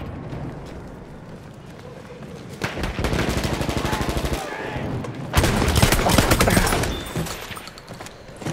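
Rapid bursts of enemy machine gun fire in the World War I shooter Battlefield 1, loud and sustained in two long volleys with a brief gap, alongside other game sounds and some voice.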